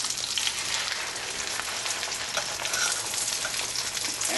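Chicken sizzling steadily in a hot pan for chicken Francese, a dense continuous crackle and hiss heard up close with no talking.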